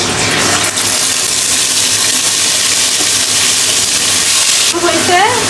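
Cucumber, pointed gourd and lentil dumplings frying in hot mustard oil with onion, garlic and cumin paste, turmeric and chili powder, a loud, close, continuous sizzle with bursts of crackle and a brief scraping stir at the end.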